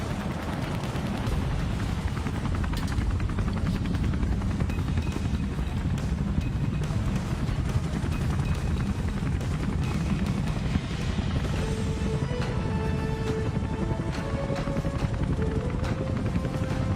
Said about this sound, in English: The pilot is flying with great precision to maintain airspeed and hovering just 3 meters above the waters